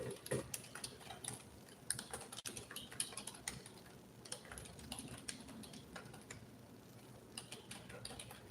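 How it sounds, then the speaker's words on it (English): Soft, irregular keystrokes on a computer keyboard click away steadily in a quiet room, fairly close and without any voices. "I am typing in the comments to maybe respond to anything"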